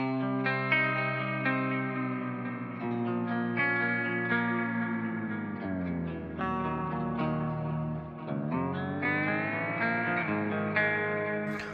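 An electric guitar through an octave vibrato pedal set to one octave plays sustained notes that swoop down and back up in pitch, with a warbling, doubled shimmer and some echo.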